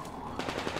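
Rapid gunfire bursts in the first-person shooter game Metro Exodus, a quick string of close, sharp shots lasting under a second.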